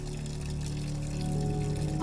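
Water pouring at dawn while containers are filled from the household supply, a steady, close rushing flow with low tonal hum that swells slightly toward the end.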